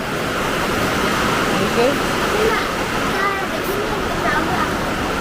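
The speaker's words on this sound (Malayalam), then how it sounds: "നല്ല മഴ കേട്ടോ" Heavy rain pours in a dense, steady roar throughout, with faint voices murmuring beneath it.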